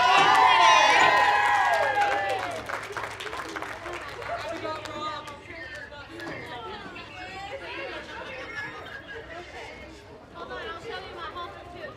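Audience at a school livestock show for sheep and goats bursts into applause and cheering, loud at first and then fading into a scattered clatter and crowd chatter.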